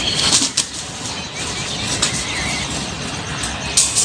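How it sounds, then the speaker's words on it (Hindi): Wings flap in quick bursts as a paralyzed pigeon is grabbed, with scuffling and rustling close by over a background of traffic noise. "ये देखिए मैंने ये कबूतर पकड़ लिया"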